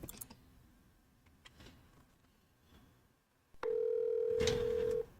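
In the Lovestarved dark fantasy horror romance game, scattered faint ticks and clicks of a phone being handled lead into a steady, loud dial tone that holds for about a second and a half, with a short burst of noise over it.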